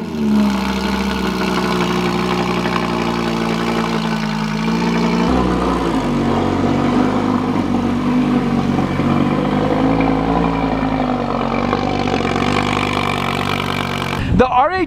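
A supercharged Audi R8 GT making about 750 horsepower rumbles steadily close by, its deep engine note shifting pitch partway through and rising briefly at the end, with no talking over it.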